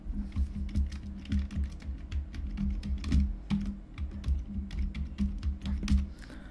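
Fingers type on a computer keyboard while entering an email address into an online PAN card form, with rapid, uneven clicks of keys close by and no talking.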